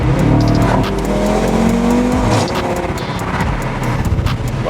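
An Audi RS3 doing a rolling launch with launch control, its engine roaring loudly then dropping and building again as it accelerates, with a faint tire-like squeal in the mix and no talk.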